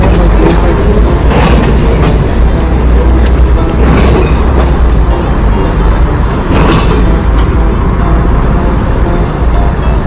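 A light rail train rumbles past nearby in Antwerp, Belgium, loud and continuous, with a steady low roar, metallic clatter and faint wheel squeal throughout.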